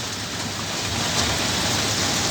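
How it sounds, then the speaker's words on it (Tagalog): Heavy rain pours down in a dense, constant hiss over a street, loud and unbroken with no voices. "Hindi talaga natigil ang ulan."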